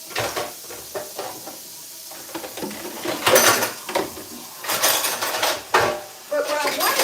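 Dishes, pots, pans and cutlery clatter in a home kitchen during cleanup, with irregular bursts of clinking and scraping that grow louder and busier midway through, plus faint background noise.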